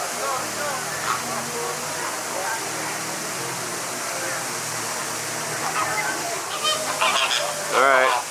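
Flamingos at SeaWorld Orlando honk in a noisy flock, repeated goose-like calls over a steady rush of running water, with people talking at points.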